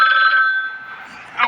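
A telephone rings in the Talking Ben video game, a steady bright electronic tone held for about a second before fading, with a short burst of noise near the end.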